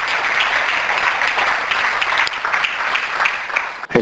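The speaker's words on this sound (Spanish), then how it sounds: "Le doy un aplauso." A church congregation claps at a sermon, a continuous, moderately loud patter of hands that holds evenly before a sudden brief dip near the end.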